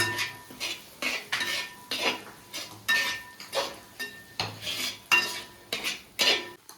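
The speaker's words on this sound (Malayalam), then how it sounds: "ഒരു അര ടീസ്പൂണ് മല്ലിപ്പൊടി ഇട്ട് കൊടുക്കട്ട നന്നായിട്ടൊന്ന് ഇളക്കി കൊടുക്കാം" A spoon stirs chicken chukka with coriander powder in a pan, scraping the metal in a steady rhythm of about a dozen distinct strokes, close and clear with no talking.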